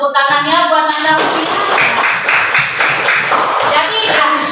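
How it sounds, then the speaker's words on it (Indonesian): A classroom group claps in applause, a brisk burst of many hands close by, following a moment of voices at the start. "Kita kasih tepuk tangan"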